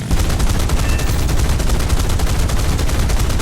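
Aircraft guns on an XP-55 fire in War Thunder, a loud, sustained rapid burst of rounds hammering in an even rhythm from start to finish.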